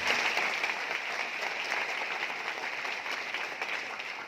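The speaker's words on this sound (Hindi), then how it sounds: "हमारे ग्रेट अपलाइन, हमारे mentor PC sir, BC sir और अंजू मैम के ऊपर जोरदार तालियां।" Enthusiastic audience applause at a business seminar, a strong, continuous burst of many hands clapping that tapers slightly toward the end.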